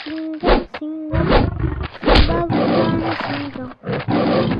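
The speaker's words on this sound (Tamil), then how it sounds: "சிங்கம் சிங்கம்" A lion roars in a video game, with several loud, rough bursts repeated in quick succession and thumps mixed in, close and dominant throughout.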